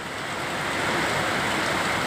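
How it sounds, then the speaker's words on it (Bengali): Rain falling outdoors near a building, a dense steady wash of hiss and patter, moderately loud and continuous throughout. "এদিকে সুন্দর বৃষ্টিও হচ্ছে"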